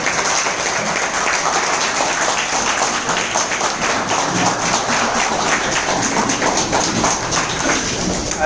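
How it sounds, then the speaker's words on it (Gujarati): An audience at a hotel business meeting gives a distributor sustained applause, with dense, loud clapping from many hands that stays steady throughout. "જોરદાર તાળી સાથે"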